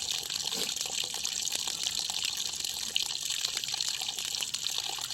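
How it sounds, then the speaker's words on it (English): Water rushes steadily through a valve opened about a quarter turn, a continuous close gushing hiss like a running tap with no pauses and no voices. "it actually looks like it's flowing a ton more water this way"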